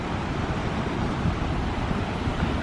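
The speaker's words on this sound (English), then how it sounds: "The waves look a little bigger." Ocean surf at a beach at Topsail Hill Preserve State Park, a steady broadband wash of breaking waves mixed with wind noise on the microphone, continuous and fairly loud, with no talking.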